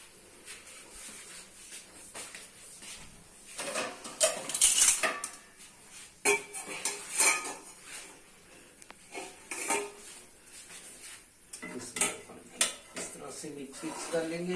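Curry (salan) is mixed in a pot with a spoon, making scattered scrapes and metallic clinks against the pot's sides, close by and intermittent, while a person talks throughout.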